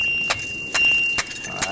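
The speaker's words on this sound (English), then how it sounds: "That's the sound of a good piton there. It goes ding, ding, ding" A hammer drives a piton into rock on a clean big-wall climb of the Shield, giving four sharp, ringing metallic strikes spaced about half a second apart against a quiet background.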